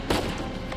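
A single sharp gunshot in the video game Uncharted 4 A Thief's End on PS5, followed by softer reverberating shots trailing off.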